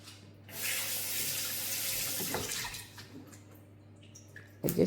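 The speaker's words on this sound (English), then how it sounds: "I just wash my hands from the spices" A kitchen tap runs in a steady, close hiss while hands are rinsed of spices after seasoning a goat leg, with a short clatter as the flow stops near the end.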